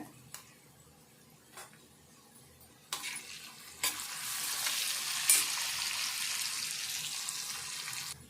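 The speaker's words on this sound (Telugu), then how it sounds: "ఈ ఉల్లిపాయ ముక్కలు కూడా ఇట్లా మంచిగా ఫ్రై అయినాక ఇప్పుడు పసుపు వేసుకోవాలి" Onion pieces fry with turmeric in a pan, quiet at first with a few taps, then a steady soft sizzle rises and continues to the end, close by with no talk.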